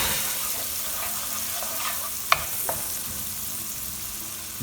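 Bacon sautéing in a pan, a steady close sizzle and crackle with a couple of sharp utensil clicks partway through and no talk.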